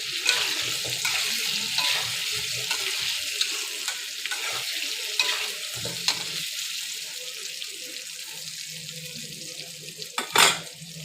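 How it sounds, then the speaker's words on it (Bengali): Steady sizzling and crackling of potatoes frying in a pan, with occasional clinks and a sharper clatter near the end; no talking. "এবার আমি ভালো করে না ভেজে নেবো আলুটা"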